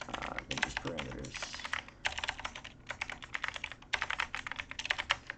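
Fingers tap on a computer keyboard in quick bursts of clicks separated by short pauses, close and crisp, with no talking over the keystrokes.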